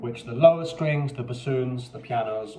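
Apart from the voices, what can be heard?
No distinct noise like a dog, phone or traffic.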